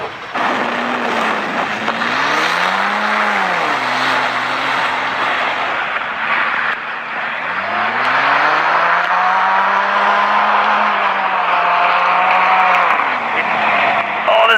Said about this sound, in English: This thing is clawing in!